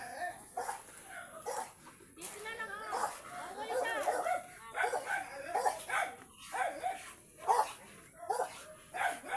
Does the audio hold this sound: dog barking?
yes